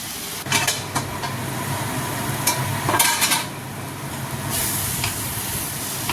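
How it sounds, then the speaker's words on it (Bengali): Taro leaves being stirred with turmeric in a pan, a utensil scraping and clinking against the metal in scattered strokes over a steady soft sizzle, close and moderately loud. "একটু হলুদ দিয়ে দিলাম, হলুদটা মিশিয়ে দেবো শাকের পাতাগুলির মধ্যে"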